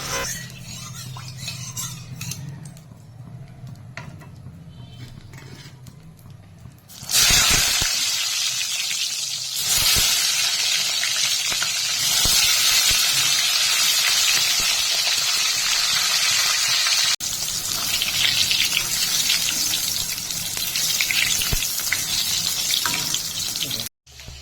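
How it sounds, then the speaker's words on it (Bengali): Eggplant frying in mustard oil in a hot wok, a steady loud sizzle that starts abruptly partway through and continues close up, following a quieter stretch of kitchen noise. "কড়াইয়ে সরষের তেল দিয়ে বেগুন হালকা করে ভেজে নেব।"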